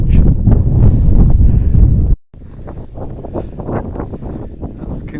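Strong wind on an open hillside at Edale on the Pennine Way roars and buffets the microphone, a heavy low rumble that drops out briefly, then returns in steady gusts.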